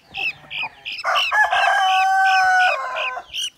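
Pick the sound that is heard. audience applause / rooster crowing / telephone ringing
rooster crowing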